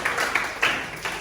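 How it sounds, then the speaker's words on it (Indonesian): A class applauds together, dense brief clapping that fills the whole short moment at close range with no talk over it. "tepuk tangan buat semuanya"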